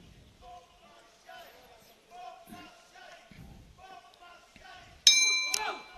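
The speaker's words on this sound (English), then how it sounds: "Well, there goes the bell," A bell rings out to end a round in a ring at the men's world boxing championships in Dubai, a loud sharp ding with ringing overtones arriving near the end after quieter crowd noise.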